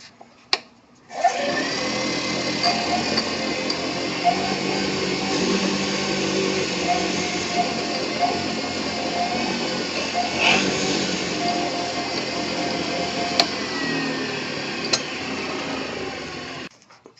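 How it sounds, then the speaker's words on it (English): A drill boring an 11/32-inch hole into the front part of a fountain pen section, a steady high whine running continuously for most of the stretch after a short start, with small clicks scattered through it. "I'm going to drill an 11/32 hole, which is going to be as wide as that little chrome nib right there."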